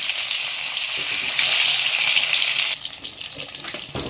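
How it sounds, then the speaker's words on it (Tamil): Fish frying in hot oil, a loud close crackling sizzle that swells as more pieces go in, then drops to a lighter, bubbling fry with small pops. "மீதி இருக்க மீன்களையும் வறுத்து எடுத்துக்கலாம்"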